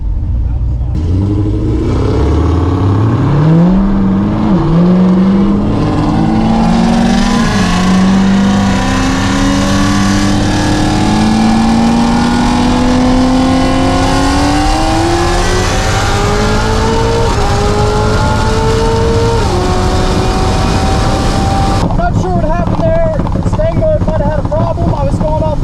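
A 2020 Ford Shelby GT500 and a 1,000 hp Corvette ZR1 launch hard down a track, engines roaring loud and close as they climb through several gear changes with rising pitch, while a voice talks over the run.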